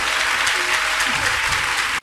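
A church congregation claps and cheers in praise of Jesus Christ: loud, dense, continuous applause filling the whole stretch, with crowd voices mixed in.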